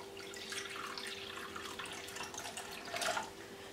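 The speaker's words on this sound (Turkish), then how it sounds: "Ve biraz su ile bunu açacağım." Water pours gently onto grape molasses in a plate, a soft trickling splash that swells briefly near the end, quiet and close with no talk.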